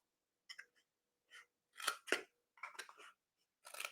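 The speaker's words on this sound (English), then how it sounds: "We're just going to go on ahead and snip it right now" Scissors snip through paper while a Christmas cracker treat box is being made: a string of quiet, crisp, close cuts in short irregular bursts with brief pauses between them.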